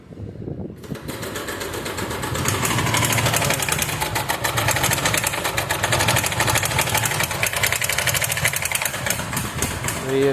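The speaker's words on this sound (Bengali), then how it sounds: "ইঞ্জিনের আওয়াজ সাউন্ড খারাপ হয়েছে।" A TVS XL 100 moped engine with a faulty sound runs steadily and loudly after starting, its rough mechanical chatter holding a continuous, slightly uneven tone throughout.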